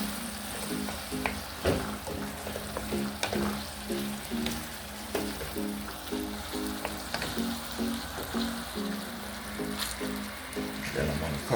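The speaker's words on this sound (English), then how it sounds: "Then I'm going to stir." Fish frying and sizzling in a pan while it is stirred, a steady hiss with repeated rhythmic scraping strokes through the whole stretch, close and moderately loud, with a voice occasionally audible.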